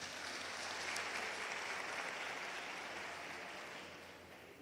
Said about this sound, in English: Mr. Coutier, can we please give him a warm round of applause?